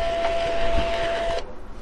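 A thermal printer feeds paper continuously, with a steady motor whir and a constant tone for over a second before the feed stops, followed by a short quieter mechanical tail. No voices.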